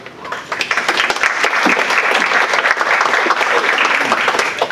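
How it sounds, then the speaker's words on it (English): A lecture audience applauds a guest speaker being introduced at a Big Data for Development talk: steady, dense clapping from many hands that starts up quickly and holds at full strength throughout, with no voices over it. "It's always nice to get applause before I say something"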